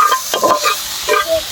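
Red amaranth greens stir-fried in a pan, with a close, lively sizzle broken by repeated scraping strokes of a spatula in quick bursts, no talking.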